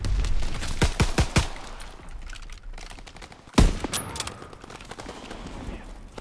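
Gunfire in a sniping video game, with bursts of rapid shots early, then a loud single crack and scattered follow-up shots, with faint game voices in the background.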